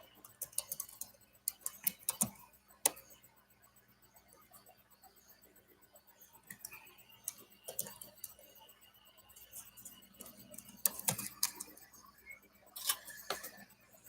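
Typing on a computer keyboard, with quick, irregular bursts of light key clicks and taps separated by pauses, close and fairly quiet, with no talking.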